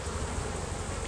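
Honey bees buzz inside a beehive colony, a close, dense drone of many wings humming steadily without pause.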